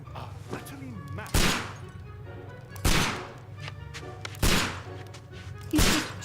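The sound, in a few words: gunshots from Holmes shooting blindfolded in Sherlock Holmes video game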